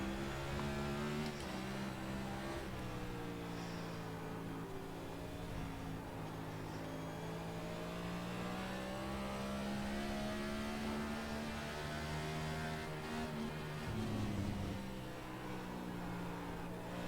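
Race car engine in the iRacing sim at Sonoma, a steady droning tone with shifting pitch as it revs through gears, with continuous wheel chatter over the whole stretch and no talk.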